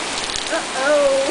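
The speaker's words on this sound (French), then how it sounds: "Hey, il mouille plus fort, là." Heavy rain pouring down outdoors, a steady dense hiss of drops throughout, with a faint voice-like tone rising briefly near the end.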